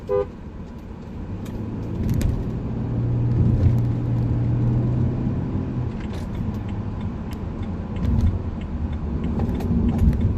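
A BMW sport LED shift knob in an E90, E60, E39 or E46 moves through the gears, producing faint mechanical clicks over a steady low engine hum inside the car.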